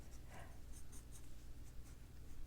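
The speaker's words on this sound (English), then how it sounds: "so I'll get a white pencil. Just make a light sketch," A white pencil sketches a long triangle on fabric, making soft, faint scratchy strokes in short bursts over a quiet background.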